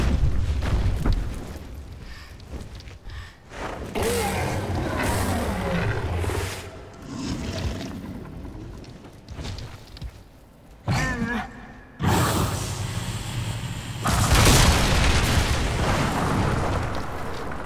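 A giant feathered creature in The Last Guardian fires rockets, a roar-like rumble with deep booming blasts in bursts over about eighteen seconds, with sustained loud noise and a few brief pauses.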